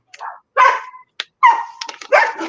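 A dog barks in several sharp, loud bursts with short gaps between them, some yelping, close by with no talking.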